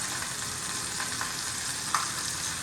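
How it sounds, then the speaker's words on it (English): Steady, close sizzling and crackling of a turkey breast frying in a hot pan, with a few small pops, no voices. "Now we're starting to hear a good sizzle."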